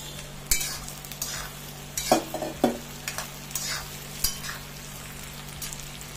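Jackfruit and potato sizzle quietly in a pan with fried onions while a spoon stirs and scrapes in short, irregular strokes, close by with no talking.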